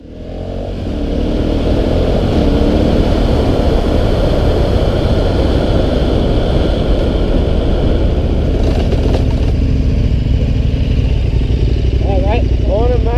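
A KTM 1190 Adventure motorcycle rumbles steadily and loudly throughout as it rides off, its engine drone continuous and close, with a brief higher whine near the end.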